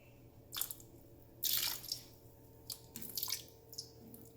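Apple vinegar is poured into a cooler used as an ice bath for meat. Short, close splashing pours come in several separate bursts with quiet gaps between them.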